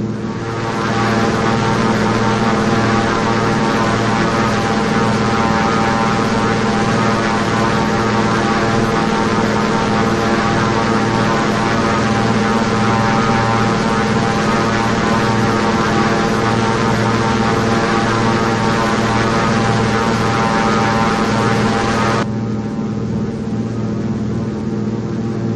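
Thranda Beaver propeller plane engine in X-Plane 11, a loud, steady droning roar with a constant hum running unbroken for the whole span, the upper hiss dropping away near the end.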